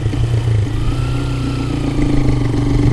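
Motorcycle engine running with a steady low rumble and repeated short throttle blips, close and loud throughout, with no voices.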